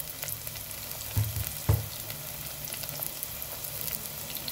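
Ginger garlic paste sizzles in hot oil in a pan with green chillies while cooking a drumstick and amaranth curry, a steady quiet fry broken by two brief louder bursts as it is stirred.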